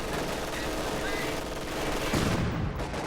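Bursts of MG42 machine gun fire in the Company of Heroes 2 video game, loud and continuous amid other battle gunfire and explosions, with a voice speaking over the top.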